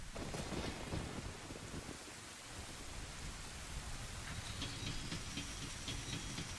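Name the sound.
rain and thunder in a Nintendo video game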